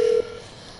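A phone dialing tone in a video game: a single steady electronic beep that holds briefly then cuts off, leaving a faint low background hum.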